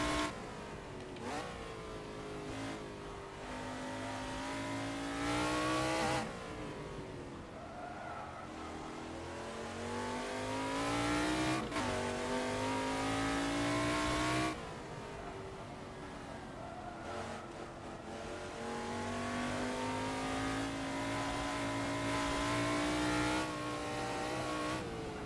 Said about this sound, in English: And the heel toe downshift in. It's just a beautiful thing in a car that sounds like this.